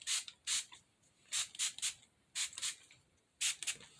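Short hissing bursts from a spray bottle of leave-in hair revitalizer, fired in quick pairs and triplets onto hair, close by and otherwise quiet.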